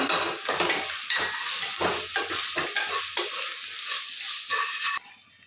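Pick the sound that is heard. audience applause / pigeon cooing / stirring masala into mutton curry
stirring masala into mutton curry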